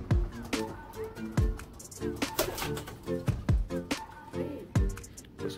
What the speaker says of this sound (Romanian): O superbitate de porumbei.